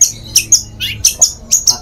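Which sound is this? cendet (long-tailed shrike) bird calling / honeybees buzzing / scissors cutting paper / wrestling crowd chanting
cendet (long-tailed shrike) bird calling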